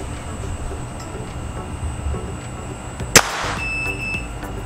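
A single sharp crack from a CBC B19x air rifle firing a heavy 1.27 g pellet, close and loud against a quiet room hum, followed by a brief faint ringing tone.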